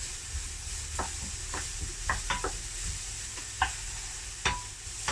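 Sliced leek and diced bacon fry in a pan, giving a steady hiss with scattered sharp crackles and spatters and occasional utensil taps, close up and without talk.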